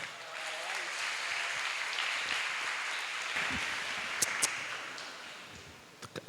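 An audience applauds a guest arriving on stage at a live talk event, a dense, steady wash of clapping that fades gradually, with a few sharp louder claps and bumps near the end.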